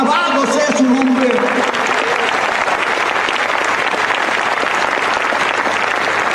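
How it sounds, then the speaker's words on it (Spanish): Loud, steady applause from a large church congregation fills the space, with a voice briefly heard at the start before the clapping takes over. "Denle un aplauso al Señor Jesucristo en esta mañana"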